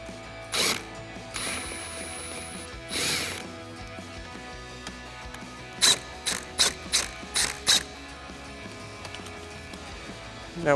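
Door card screws on a 2013-2018 RAM 1500 are loosened with a ratchet, giving a few slow clicking pulls early on, then a quick burst of close, sharp ratcheting strokes.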